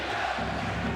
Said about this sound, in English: The chant of defense from this capacity crowd of the Garden